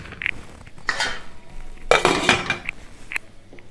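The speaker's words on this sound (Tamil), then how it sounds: "இப்போ நல்லா இதை மூடி வச்சிடலாம்." A lid goes onto a pot of roasted rava with a couple of metallic clatters and clinks, close by, against a quiet kitchen.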